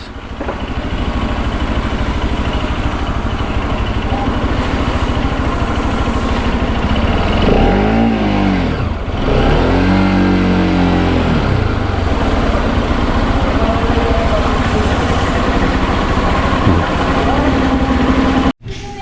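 A Kawasaki Rouser 200 RS motorcycle engine idling steadily up close, with a brief rev change partway through before cutting off abruptly at the end.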